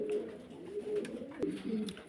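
Pigeons on a pigeon farm give soft, low cooing calls in short repeated phrases, fairly quiet and close, with a few faint clicks and knocks around them.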